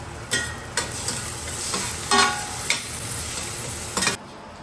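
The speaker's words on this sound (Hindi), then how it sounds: "तेल गरम होते ही मैंने प्याज डाल दिया था। प्याज हल्का सा फ्राई हुआ।" Onion, green chili and ginger fry in hot oil, giving a steady sizzle broken by several sharp scrapes of stirring before the sound cuts off abruptly.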